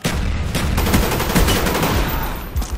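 Rapid bursts of gunfire from a Call of Duty: Black Ops multiplayer match, firing continuously and loud for nearly three seconds with dense, overlapping shots.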